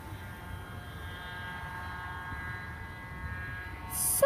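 A small propeller plane takes off at Toledo's KTOL airport. Its thin engine drone and broad rushing noise hold steady at moderate distance, then swell slightly near the end.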